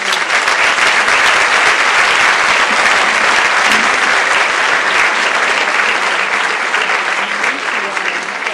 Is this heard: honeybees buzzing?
no